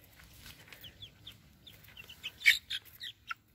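Backyard farm chickens give a few scattered, fairly quiet clucks and short calls, with a louder burst near the end, heard alone with no talking.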